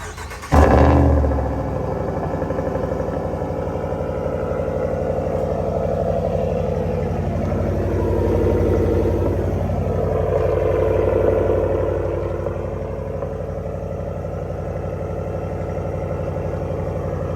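A 2022 RAM 1500 Rebel GT pickup truck cold-starts through its stock exhaust: a sharp loud crank and flare, then a steady deep rumbling idle that swells slightly midway and settles, continuous and close.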